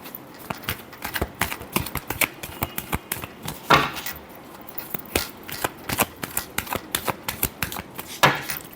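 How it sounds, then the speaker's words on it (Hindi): Tarot cards are shuffled by hand in a rapid series of crisp, papery riffles and slaps, close and fairly loud, continuing steadily with no talking. "last shuffle"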